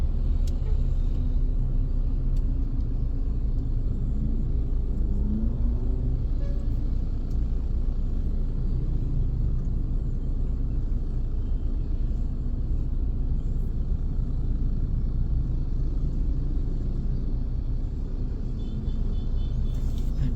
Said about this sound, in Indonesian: ini mau ada truk. Angkut apa sih ini guys? Angkut puing kayaknya